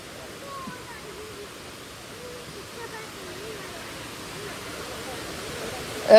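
Meenmutty waterfall: a constant soft roar of rushing water with faint voices underneath, swelling slightly at the very end.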